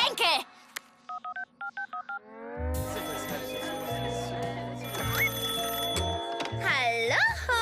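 A mobile phone dials in a cartoon camp scene: a quick series of short electronic keypad tones, then a sustained ringing tone under a swelling musical score, with a voice breaking in at the end.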